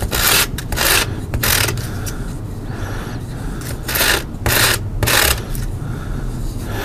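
Sandpaper rubs along the edge of a handmade art drink coaster in close, rasping strokes, several louder bursts of scraping rising and falling over about seven seconds with no voices.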